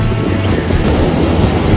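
Sea waves rolling onto a beach at Phuket, Thailand, a steady loud broadband wash of surf with some wind buffeting the microphone, no voices.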